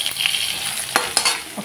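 Pumpkin, potato and eggplant fry with panch phoron in a pan, a bright steady sizzle broken by a few scraping stirs, close and with no voices.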